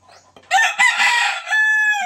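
A laying hen gives a loud, close, drawn-out squawking cackle lasting over a second, preceded by softer fowl noises.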